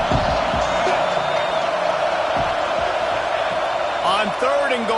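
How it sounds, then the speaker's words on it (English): A home stadium crowd roars loudly and steadily through a college football game, a dense continuous wall of cheering, with a commentator's voice running over it. "how nice is it to have the home crowd going absolutely bananas?"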